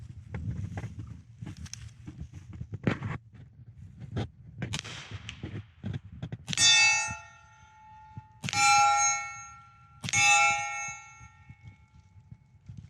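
Three sharp metallic clangs of suppressed gunshots hitting a steel target ring out about two seconds apart, each with a bright lingering ring, after a stretch of quieter muffled thumps and handling noise.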